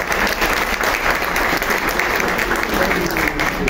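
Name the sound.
audience applause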